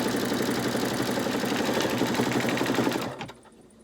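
An embroidery machine stitches rapidly with a steady mechanical whir and fast rhythmic clatter, then stops abruptly, leaving quiet.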